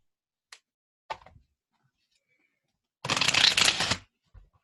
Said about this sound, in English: Let's shuffle a bit more.